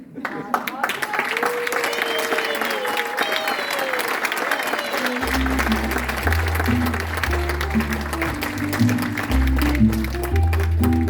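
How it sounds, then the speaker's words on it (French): A theatre audience at an amateur troupe's comedy performance claps steadily throughout, and halfway through, a loud low musical passage rises beneath the ongoing applause. "Merci pour vos applaudissements."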